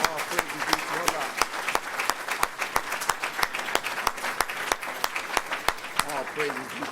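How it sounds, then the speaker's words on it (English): An audience gives a warm round of applause at an address, sharp rhythmic hand claps ringing out steadily over a crowd murmur, with some voices audible underneath. "Let's give them a warm round of applause."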